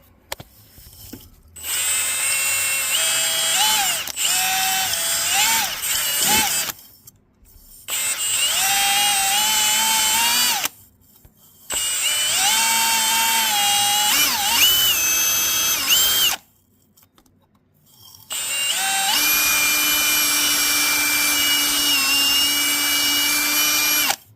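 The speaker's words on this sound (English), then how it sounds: "Get our drill brush here." A power drill with a brush attachment whines loudly in several long bursts separated by short pauses, its pitch shifting slightly as it scrubs Hyundai Sonata engine valves, close to the microphone.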